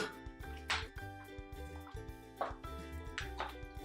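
Vinegar is poured into rice and mixed, trickling and dripping with soft wet splashes and squishing, close up and fairly quiet, in irregular bursts.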